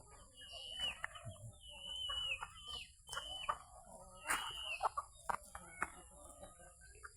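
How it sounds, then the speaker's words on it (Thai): Chickens at a temple in Chae Hom, Lampang, cluck and squawk in short, scattered bursts while feeding, with a few louder calls standing out over a low rustling background. "ก็ไก่กินข้าวกัน ก็ไก่ก็เอ้ยก็ไก่เด็กวัดโป่งชัย กินข้าวกันใหญ่"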